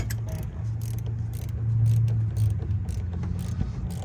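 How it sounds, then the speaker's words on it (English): A small metal wrench tightening a car battery terminal, close mechanical ratcheting and metallic scraping over a low steady hum, moderately loud. "So I'm gonna use this little wrench and do that real quick."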